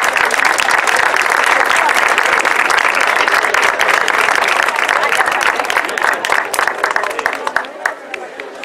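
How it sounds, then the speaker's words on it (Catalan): Loud, dense applause from a large crowd gathered at a rally outside a prison, sustained for several seconds before thinning out toward the end. "Li demanaria un aplaudiment per ella."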